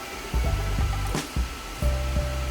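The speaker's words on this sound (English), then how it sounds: "I am now welding up the whole entire thing" Electric welding on the steel frame of a homemade apple cider press: a steady buzzing hum that starts and stops in several bursts of about half a second each, close and fairly loud.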